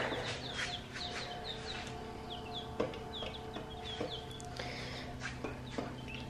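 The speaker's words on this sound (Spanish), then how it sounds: "Ya están poniendo bien grandes estas pollitos." Growing chicks on a farm chirp and cluck continuously over a low steady hum, with frequent short peeping calls and occasional light knocks nearby.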